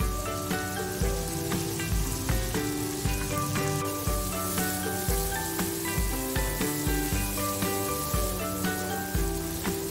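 Sliced onions are stir-fried in a pan for beef semur fried rice, giving a continuous crackling sizzle that sits beneath loud, rhythmic background music.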